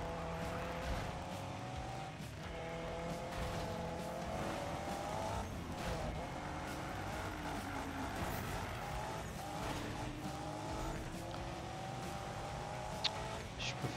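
Car drifting with squealing tires in a Need for Speed racing game on Xbox One, a steady engine drone with wavering squeal tones running through most of the stretch, a voice talking over it at times.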